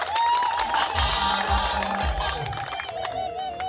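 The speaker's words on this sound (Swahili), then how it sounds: "Tujipongeze kwa makofi mengi sana." Political rally crowd in Kilombero, Tanzania, applauding and cheering loudly throughout, a dense roar of clapping and shouting voices.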